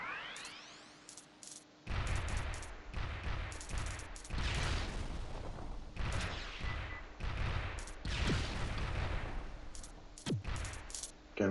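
Wing bombs and wing gun bullets fire in the mobile shooter Wing Fighter on Map 58: dense, rapid bursts of crackling shots and blasts come in repeated waves, separated by brief lulls.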